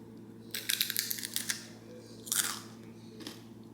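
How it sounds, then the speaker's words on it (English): Someone crunching on crispy sweet potatoes, with several close, loud bursts of biting and chewing separated by quiet pauses and no talk. "I did need to offer a moment for the crunch sweet potatoes"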